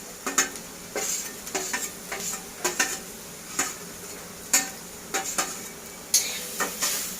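Grated coconut dry-roasting in a pan for a spinach and chana dal dish, heard as a faint crackle with a quick, uneven series of scraping stir strokes from a spatula, and no voices.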